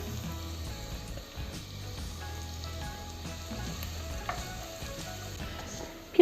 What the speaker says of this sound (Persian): یه دونه پیاز ریز خورد شده، سایز پیاز متوسط هستش، میریزم تفتش میدم تا سبک بشه.